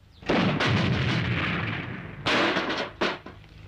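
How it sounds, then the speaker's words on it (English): A grenade launcher fires in a Philippine action film, heavy booming blasts close and loud: one long rumbling shot followed by two sharper bursts in quick succession, with no talk. "and this is a grenade launcher."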